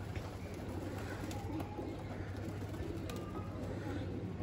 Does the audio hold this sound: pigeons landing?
yes